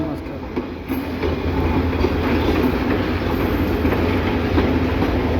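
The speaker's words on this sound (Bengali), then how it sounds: "কত লম্বা ট্রেনে" A long train arrives at Sylhet station in Bangladesh: a steady, loud rumble with rolling wheel clatter that continues unbroken the whole time, with no talk.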